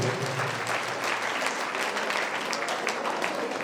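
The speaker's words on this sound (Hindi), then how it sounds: "अनुमोदना जोरदार ताली बजा के करना चाहिए।" A congregation breaks into loud, sustained applause, a thick, even roar of many hands clapping together without pause.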